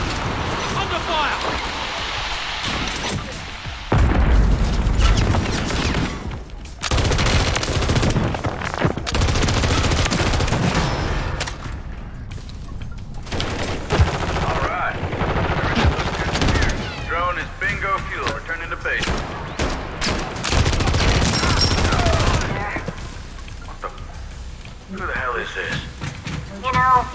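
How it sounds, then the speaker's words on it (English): Gunfire in Modern Warfare 3 multiplayer: repeated loud bursts of automatic fire and sharp shots in irregular clusters, some close and some farther off, with players talking over the action. "Under fire."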